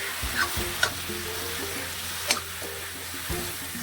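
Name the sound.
roasting ground bhatt (black soybeans) in a pan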